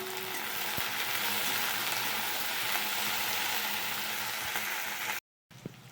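Okra sizzling in a frying pan, a steady dense crackle and hiss close by with a few faint clicks, cut briefly to silence near the end.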